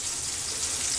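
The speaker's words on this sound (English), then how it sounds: "Alright, so these are just sizzling away." Breaded green tomato slices frying in hot grease, a close, steady hiss of sizzling with no voices.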